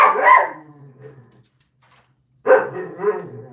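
A rescue dog gives loud, rough, growly barks at a dog rescue, one burst, a pause of silence, then another close, harsh outburst.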